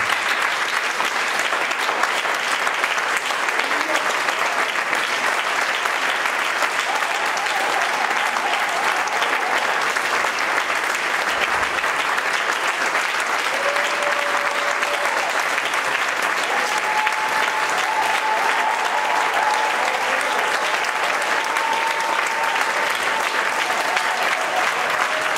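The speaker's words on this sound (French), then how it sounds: "Je voudrais que nous donnions des acclamations au Seigneur." A church congregation bursts into sustained, dense applause that holds steady and loud for the whole stretch, with no voice rising above it.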